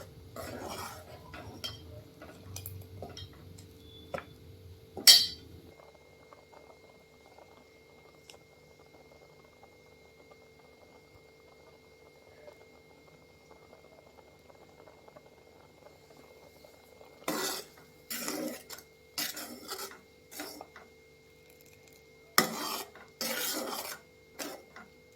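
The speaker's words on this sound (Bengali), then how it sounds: "এই চালটা পুরো আমি দুধে সেদ্ধ করব" A spoon scrapes and knocks against a pot of rice boiling in milk, in sharp bursts of stirring separated by a long quiet stretch with only a faint simmer.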